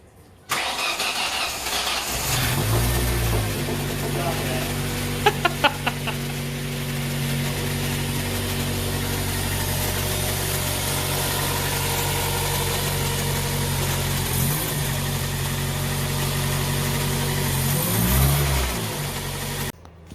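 A Ford Focus engine cranks and catches, then settles into a steady close idle with a couple of brief revs later on, while a voice talks faintly over it.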